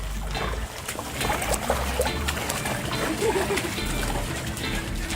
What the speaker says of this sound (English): Good splashing.